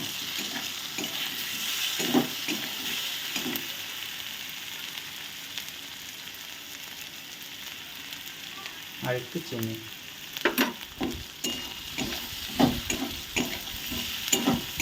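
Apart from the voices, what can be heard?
spices frying and sizzling in oil in a pan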